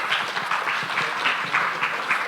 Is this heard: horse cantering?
no